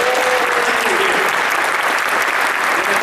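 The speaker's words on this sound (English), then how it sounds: "give them a collective round of applause" A large crowd applauds Apollo astronauts at a Las Vegas event, loud dense clapping that holds steady and continuous from start to finish.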